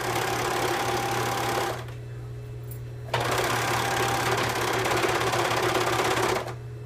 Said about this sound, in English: Now I'm just gonna serge around.